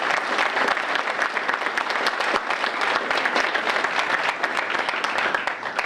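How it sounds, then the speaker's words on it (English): An audience at a July 2016 Downtown Revitalization Initiative press conference applauds Secretary of State Rosanna Rosado, a steady, dense wash of many hands clapping throughout, fairly close and even in level. "She really deserves the applause"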